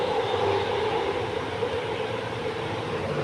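Train passing outdoors near a house, a steady loud rumbling roar of wheels and wagons rolling continuously without letup.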